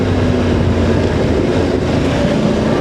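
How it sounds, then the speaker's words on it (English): A Voge DS625X motorcycle engine pulls hard under acceleration, a loud, steady droning roar heard up close from the rider's seat with rushing wind mixed in and no pauses. "it's a good engine, I tell you what. This is a get up and go engine."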